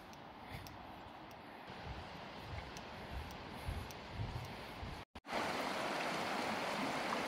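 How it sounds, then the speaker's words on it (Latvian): Swift, rapid-filled Amata river, a tributary of the Gauja, rushing past along a forest trail: a steady broadband roar of flowing water throughout, briefly cut out before resuming louder. "Amatas upe ir viena no straujākajām un krāčenākām Gaujas pietekām."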